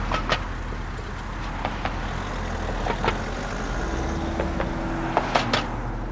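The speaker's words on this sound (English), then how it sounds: "you can hear the traffic on the bridge above us" Steady traffic rumbles on a bridge overhead above a fishing spot, with cars and trucks passing continuously and occasional sharp clanks and thumps from vehicles crossing joints, heard from below with no talking.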